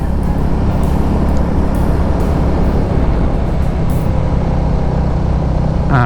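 A Royal Enfield Classic 350 motorcycle engine while riding, a loud steady drone with wind rush and a constant thrum, no gear changes evident.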